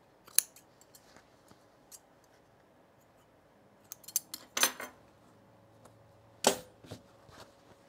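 Scissors trimming fabric while sewing cargo pants, a handful of sharp snipping cuts scattered across a quiet room, a few in quick pairs, close and crisp with no talking.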